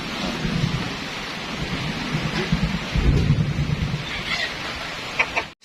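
Steady rain pours down on a goat farm while thunder rolls and rumbles midway, a dense hiss of rainfall with a deeper swell of low thunder, and a brief animal call near the end.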